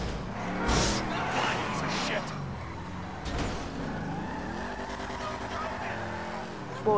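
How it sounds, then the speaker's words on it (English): A car engine roars and revs with tire skids in the Grand Theft Auto V video game, loud and continuous with shifting engine pitch, while a person talks over it. "Whoa, that was a nice car."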